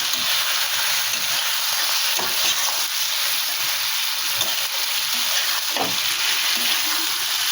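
Pointed gourd, shrimp, potato and spices fry in an oily pan, making a loud, close, continuous sizzle with scraping stir strokes throughout and no voices.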